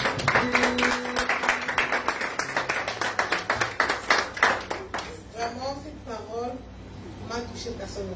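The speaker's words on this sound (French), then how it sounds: "Acclamons encore pour le Saint-Esprit." A church congregation at a Sunday service claps and applauds in dense, rhythmic bursts for several seconds, then the clapping thins out as a voice speaks over the fading applause.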